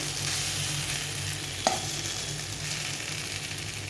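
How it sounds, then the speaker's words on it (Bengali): Potatoes frying in a pan, a soft steady sizzle with one sharp clink of a utensil midway, no talking. "আমি একটু ভেজে নিই আলুটা"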